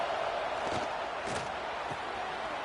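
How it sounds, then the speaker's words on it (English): Ohio State Buckeye crowd roars on third down in an NCAA college football video game, a steady, dense wall of stadium cheering that holds at an even level with brief swells and no voices speaking over it. "The Buckeye crowd alive on 3rd down."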